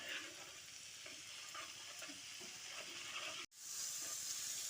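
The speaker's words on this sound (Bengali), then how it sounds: "এবার মশলাটা খুব ভালো করে কষিয়ে নিচ্ছি।" Spice paste with coriander powder and a splash of water stir-fried in a pan, a soft continuous sizzle with light stirring, broken by one brief cut to silence before the hiss resumes.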